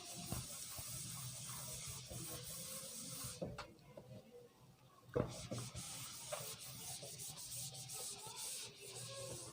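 Writing rubbed off a classroom board, a continuous dry scrubbing hiss with a brief pause midway and a knock before the rubbing resumes, fairly quiet and close.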